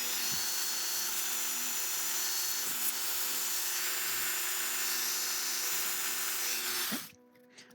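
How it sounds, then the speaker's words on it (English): Sandpaper rubs against a lock pin spinning in a lathe collet, a steady loud whirring hiss that runs unbroken for several seconds, then cuts off abruptly near the end. "put some sandpaper on it just to touch it up, make it look nice."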